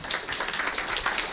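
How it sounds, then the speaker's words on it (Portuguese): Audience applause in tribute to a recently deceased teacher, a steady wash of many hands clapping at moderate level with no voices rising above it. "Gostaria de pedir umas palmas para ela."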